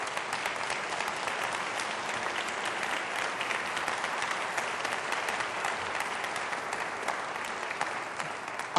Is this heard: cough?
no